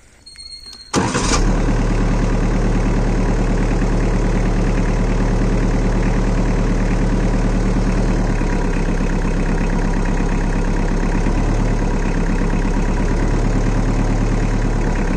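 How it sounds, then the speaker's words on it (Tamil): A tractor's high-speed diesel engine cranks and fires after a moment of near quiet, then settles into a loud, steady idle with a rhythmic low throb, close by and heard alone. "கிளச்சை மிதிச்சுட்டு தான் டிராக்டர் ஸ்டார்ட் பண்ணணும்."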